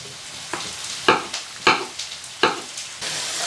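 Onions fry in a pan with a steady sizzle, broken by about five rhythmic scraping stirs spaced roughly half a second apart. The sound is close and moderately loud, with no talking.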